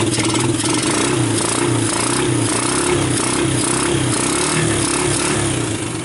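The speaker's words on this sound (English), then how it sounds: "it's really this engine running" A vintage Suzuki Quadrunner LT125 ATV engine runs steadily and loudly up close, its throbbing, slightly uneven chug continuing throughout with no talking.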